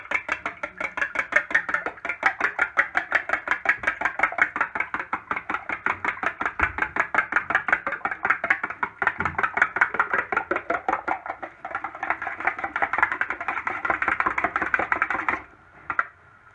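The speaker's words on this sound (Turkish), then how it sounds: "İlk önce karıştırıyoruz" Ingredients for Turkish menemen are mixed in a bowl with a steady, rapid run of light clicking beats that continues evenly for several seconds, close and clear, then stops abruptly.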